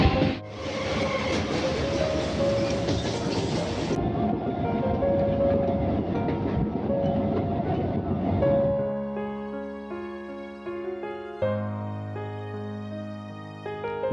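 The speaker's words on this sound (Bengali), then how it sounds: "আমাদের ট্রেন এখন কাকদ্বীপ থেকে ছেড়ে দিয়েছে" A passenger train rolls along steadily between Kakdwip and Namkhana, a loud continuous rumble and clatter close by, giving way near the end to sustained tonal whining.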